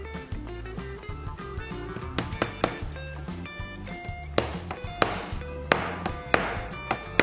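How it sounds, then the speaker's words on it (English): A hammer taps nails into a door frame during a frame and jamb installation, giving a series of sharp, irregular knocks that grow more frequent toward the end, close and fairly quiet with no talking. "Get your hammer."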